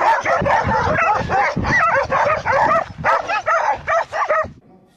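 A pack of stray dogs near a recreation area outside Ukhta barks loudly and continuously at close range, with overlapping yaps, yips and whimpering whines, until the noise breaks off near the end.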